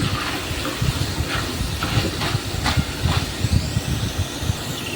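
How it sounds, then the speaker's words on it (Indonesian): Indonesian cookie dough (kue kering) frying in hot oil, a continuous hissing sizzle with small popping bursts, steady and close. "Dan ini mau kita goreng sampai dia kering ya."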